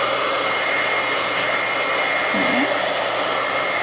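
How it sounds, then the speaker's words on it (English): A craft heat tool melts embossing powder with a steady, loud, close blowing whoosh; a single short word is spoken partway through. "So I'm heating it until the embossing powder melts."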